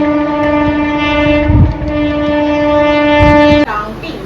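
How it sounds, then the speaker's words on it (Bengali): A train passes close by and loud, seen from a house rooftop: a sustained horn blast holds over a rumbling, clattering run of wagons that ends abruptly near the close. "এই যাচ্ছে ট্রেন যাচ্ছে"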